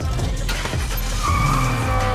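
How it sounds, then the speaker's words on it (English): A professional race car drifts at speed, its tires skidding and squealing loudly and continuously over a heavy engine roar, with a rising high-pitched tone in the second half. "Drifting 172 miles per hour isn't for the faint-hearted"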